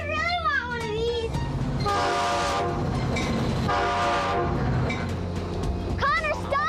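A train engine rumbles steadily, with two sustained horn blasts sounding in the middle; excited shouting voices are heard at the start and end.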